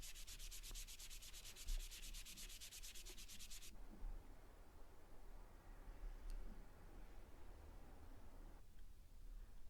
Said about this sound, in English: I just gave the handle a quick sanding over because it's quite an old handle